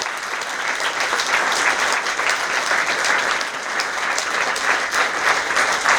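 Loud, sustained applause from a large audience at a Sushantan Kameshthi yajna gathering, with fast, overlapping claps that hold a strong, even intensity throughout.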